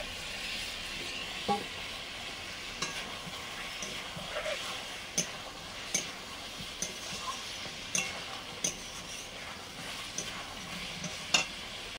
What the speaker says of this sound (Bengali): মশলার সঙ্গে ডিম আলু কষে নিয়েছি